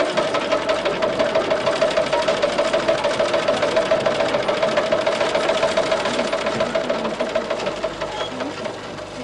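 Sewing machines run steadily at a women's sewing training centre, a dense fast mechanical whirr with rapid rhythmic stitching pulses that holds at an even loud level for the whole stretch.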